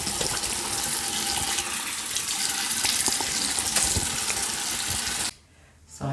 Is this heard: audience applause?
no